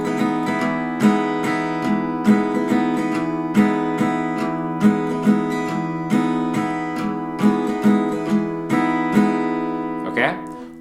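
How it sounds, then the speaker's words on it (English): Acoustic guitar strummed in a repeating six-count pattern with accented downstrokes, chords ringing steadily, ending with a brief noisy scrape. "The strumming pattern is going to sound like this."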